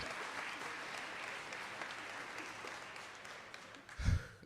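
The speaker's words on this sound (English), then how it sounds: "Please, let's give her a round of applause again" Audience applause at a nurse pinning ceremony honoring Dr. Scanlon, a steady, moderately distant wash of clapping across the room that fades slightly toward the end, with a brief low thump near the close.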